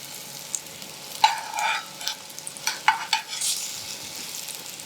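Paneer slices shallow-frying in a pan for a thecha paneer recipe, with soft sizzling and a few brief spatter bursts and stirring scrapes, close and moderately quiet, no talk.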